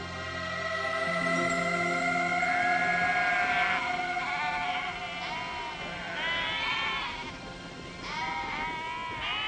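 Sheep bleating on vast sheep stations in Tierra del Fuego, several animals calling in overlapping, wavering cries, near and loud, with a steady outdoor background.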